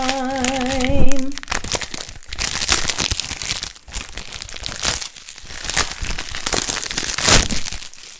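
A slide-out cardboard carton being torn and pulled open, with loud crinkling, ripping and crunching of paper and card over several seconds, up close and continuous, with a brief tonal sound at the start.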